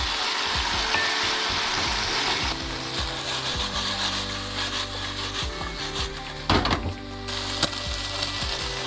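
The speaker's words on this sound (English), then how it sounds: "Been cooking the calamari now for about a minute to 2 minutes." Calamari sizzling hard in a hot pan with garlic, a steady loud fry with scraping stirs and a few clatters of the utensil against the pan, no talking.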